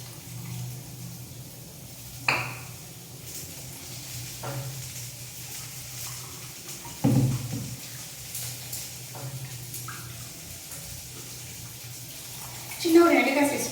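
Tamarind being squeezed and dissolved in water in a home kitchen: soft sloshing and splashing with a few louder splashes, nearby, with a cooking sizzle underneath.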